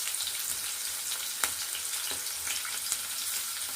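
Onion pieces, green chillies and mustard seeds fry in hot oil with a steady, dense sizzle and crackle, a few sharper pops standing out, close and unbroken without any voices.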